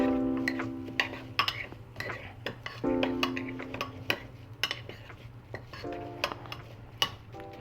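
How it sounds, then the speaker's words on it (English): A utensil stirring oats into melted butter for bannocks, with irregular scrapes and clinks against a bowl, a steady low hum underneath and faint voices now and then. "you're just gonna mix your oats in the butter"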